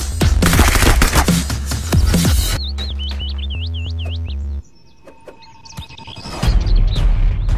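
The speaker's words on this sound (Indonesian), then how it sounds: "Wadidaw, ada mainan tembak-tembakan." A toy gun fires rapid electronic shooting effects in a loud burst, then gives warbling siren tones and steady beeps before the rattling fire returns, with no speech.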